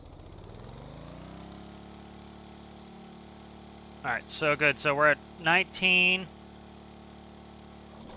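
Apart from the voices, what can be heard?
tugboat engine screaming in Stormworks video game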